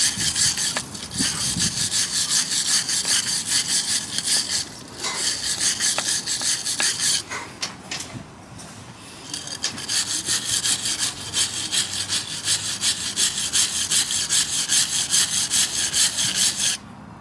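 Rusty Honda Odyssey brake parts from a 2006 model being scrubbed clean, a steady rasping, sawing-like rub that runs in long continuous strokes with brief pauses, close and fairly loud with no talking.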